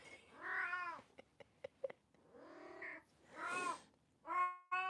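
A cat meows several times in a drawn-out, wailing manner, close by, with small tapping noises between the calls.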